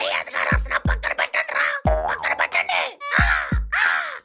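A cartoon crow caws loudly and close, a rapid series of harsh, nasal calls with short pauses between them.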